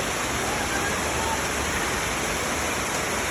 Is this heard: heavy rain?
yes